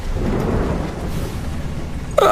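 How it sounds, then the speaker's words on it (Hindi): Heavy thunderstorm with rumbling thunder and steady downpour falling on farm fields, loud and continuous, with a sharper crack of lightning near the end. "बिजली चमकती है, जोरदार बारिश शुरू हो जाती है।"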